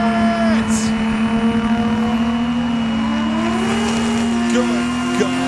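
A VL Turbo car doing a burnout at a drifting show, its engine held at high revs in a loud sustained whine with squealing tires and rising pitch sweeps.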